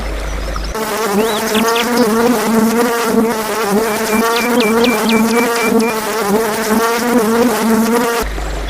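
A bumblebee buzzes steadily and close by for several seconds, a low droning hum that wavers slightly in pitch, with no other sounds.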